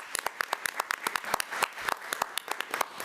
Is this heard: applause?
yes